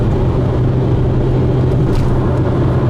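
A car travelling on a road while overtaking, heard as a steady, close, low rumble of engine and tyre noise with no talking.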